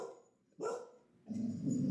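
Two close barks from dogs indoors, a short sharp one and then a longer, fuller bark after a brief pause, with no talking.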